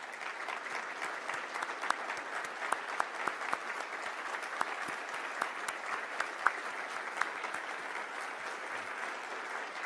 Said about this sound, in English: So I ask the military veterans in the audience to stand so that we may greet them with our applause.